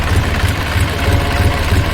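A tractor engine chugs steadily at close range while ploughing a field, its low rhythmic thumping pulsing evenly throughout.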